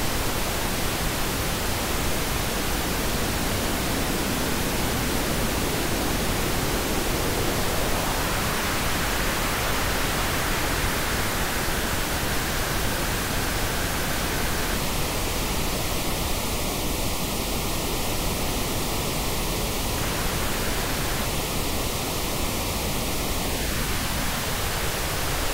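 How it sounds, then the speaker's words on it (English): Broadband noise sweeps through a band filter, shifting from a diffuse hiss into a narrow, whistling band that holds steadily, breaks briefly, then glides downward at the end; continuous and alone, with no voices. "Here is how a band filter sounds."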